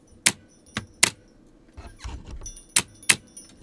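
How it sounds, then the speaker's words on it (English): Computer keyboard keys struck hard in sharp, separate clacks, about six loud hits with gaps between them and a softer rattling clunk in the middle, close and without talk. "I'm gonna stop the keyboard abuse now."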